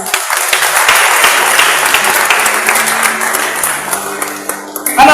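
A church congregation applauds loudly and continuously, a dense wash of many hands clapping together that carries on for several seconds before ending abruptly.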